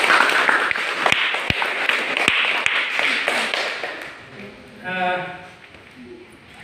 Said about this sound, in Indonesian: Kita semua tepuk tangan untuk semua kelompok